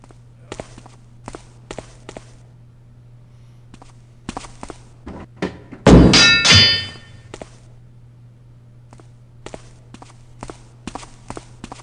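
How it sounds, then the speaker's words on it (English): Footsteps of a creepy character in the stealth game Thief: a run of hard, clanking footfalls at an even pace, a sudden loud metallic crash midway, then more steady steps over a low hum. "Those footfalls are pretty creepy. The way he sounds when he runs."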